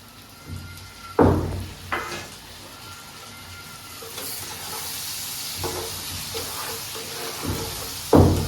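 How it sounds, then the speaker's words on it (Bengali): Spices with turmeric fry in a pan, sizzling steadily while a utensil stirs and scrapes, with louder bursts of hiss when stirred, close and without talk. "এটা একটু ভাজা ভাজা হবে"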